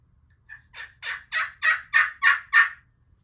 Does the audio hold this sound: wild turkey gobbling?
yes